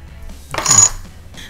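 Bikenberg poker chips clack together in a single short handful of clinks, close and fairly crisp, with faint handling rustle around it.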